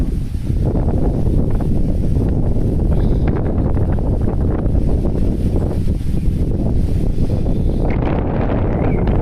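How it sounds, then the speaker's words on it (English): Strong wind buffets the microphone outdoors in a steady, loud, low roar for the whole stretch, with gusty rumbling and no break or voice. "It's very windy."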